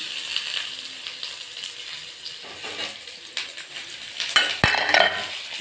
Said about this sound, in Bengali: আমি রাঁধুনি আর শুকনো লঙ্কা ফোড়ন দিয়েছি